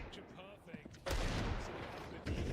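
Loud, close Desert Eagle pistol shots in a Counter-Strike 2 match, a dense burst of gunfire with reverb.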